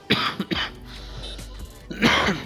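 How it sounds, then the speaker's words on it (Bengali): A person with a cold coughs and clears their throat, a few sharp close bursts at the start, a low rasping rumble, then another harsh throat clearing near the end. "আমার খুব ঠান্ডা লাগছে কাশি হচ্ছে"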